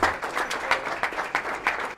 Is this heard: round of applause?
yes